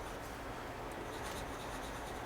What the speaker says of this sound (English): So what I'm going to do, Eric, is I'm going to just draw some.